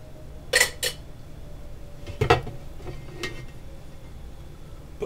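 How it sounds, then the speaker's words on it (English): A spoon scraping and clinking against a cooking pot while seasoned salt is stirred into chicken and dumplings, a few sharp metallic knocks spaced over quiet kitchen background, no talk. "Mix that around."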